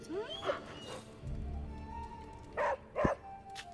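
Charlie, a dog in Marvel's Midnight Suns, lets out several short barks and whimpering yips at close range, spaced irregularly over a low game ambience, with no speech.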